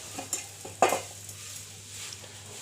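Appam batter is swirled around a pan, making a few soft clinks and scrapes of the pan, with one sharper knock. A faint steady hum continues beneath.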